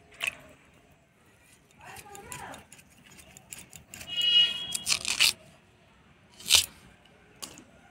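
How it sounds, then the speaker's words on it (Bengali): Potatoes cut into small cubes on a board for a Kashmiri chhana curry, a series of crisp knife chops spread irregularly through the clip with a louder cluster near the middle and a sharp cut toward the end, close and fairly faint with soft background shuffling. "আলুগুলা এরকম ডুম ডুম করে কাটে নিব।"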